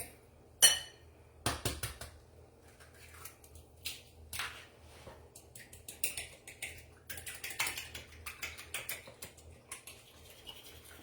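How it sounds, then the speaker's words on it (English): Egg being mixed in a bowl with a utensil, a quick run of close, light clicking and tapping strokes against the bowl after a couple of louder knocks. "Let's mix up another egg in here"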